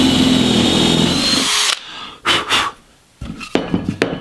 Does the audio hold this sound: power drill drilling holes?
yes